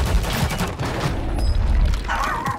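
Rapid bursts of gunfire in the video game Call of Duty Warzone, with dense crackling shots and booming impacts over about two and a half seconds, loud and close.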